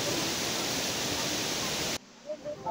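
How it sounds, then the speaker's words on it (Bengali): Waterfall on a green hillside road in Darjeeling, a loud steady broadband rush filling the first two seconds before cutting off abruptly to quieter ambience with faint sounds. "বিভিন্ন অ্যাঙ্গেল দিয়ে আরো কাছাকাছি দেখা এই ঝর্ণাটা"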